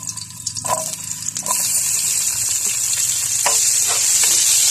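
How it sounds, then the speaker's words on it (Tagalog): Onion and garlic sautéing in a hot pan: a loud, continuous sizzle that rises sharply as the ingredients go in, with a few clinks of the spoon against the pan. "magigisa muna tayo ng sibuyas at bawang"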